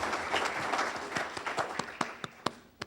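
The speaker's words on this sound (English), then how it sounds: "Let's give them a round of applause." Audience applause at a community awards ceremony honoring distinguished citizens, a dense wash of many hands clapping that thins toward the end into scattered, distinct individual claps.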